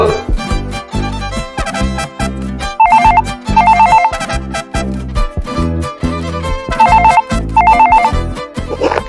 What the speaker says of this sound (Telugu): ఏమండి, మీ స్టూడెంట్ ఫోన్ చేస్తుంది, తీసుకోండి.